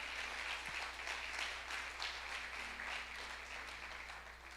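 A church congregation applauds steadily, a broad even wash of clapping that holds for the whole stretch without pause, fairly distant and moderate in level.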